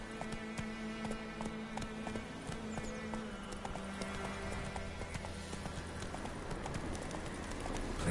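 Roach the horse gallops through The Witcher 3, a quick steady clip-clop of hooves that carries on without a break at moderate volume over a low ambient game backdrop.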